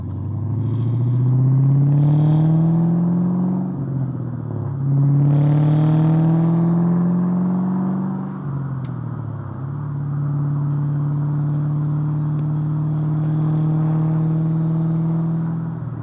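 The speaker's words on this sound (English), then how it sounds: "it still definitely has drone as you're driving and getting up to speed" An LS-swapped BMW fitted with a resonator drones steadily while driving. The low exhaust tone climbs in repeated pulls as it gets up to speed, then settles into a continuous cruising hum, heard close from inside the car.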